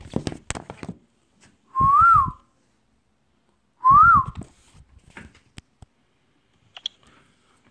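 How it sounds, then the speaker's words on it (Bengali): Two short rising-and-falling whistles from a person, about two seconds apart, are meant to set off a phone-finder app, with scattered taps and clicks of handling the phone around them in a quiet room. "আমরা ফোনটি এখন অফ করে একটা হুইসেল দিব"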